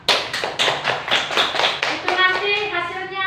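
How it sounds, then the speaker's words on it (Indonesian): A classroom group of children claps in a brisk, loud rhythmic pattern of about a dozen beats, close up, ending as a voice begins speaking over the last claps. "Kita berikan tepuk tangan untuk aksi yang akan dilakukan kelompok 2."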